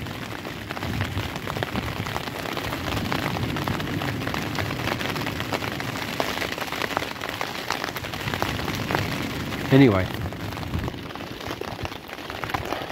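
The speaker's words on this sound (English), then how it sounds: "there's all the rain" Steady rain patters on surfaces on a beach during a fishing session, a dense continuous wash close by, with a brief spoken word near the end.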